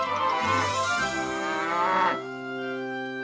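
Cartoon cows let out a long, loud moo near at hand that tails off into a lower sustained drone, with a farmyard hum beneath and no talking.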